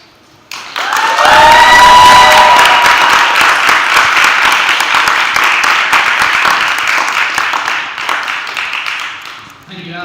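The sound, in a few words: audience applause after a debate speech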